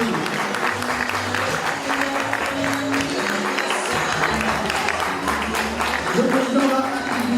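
An audience applauds the president at a celebration for retiring mothers in Côte d'Ivoire: continuous crowd clapping with murmuring voices and music underneath.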